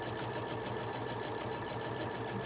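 A sewing machine runs steadily while stitching a summer tote bag lined with thick pellon, its fast, even mechanical whir close and continuous throughout with no talking.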